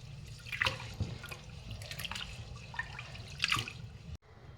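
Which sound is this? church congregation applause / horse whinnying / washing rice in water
washing rice in water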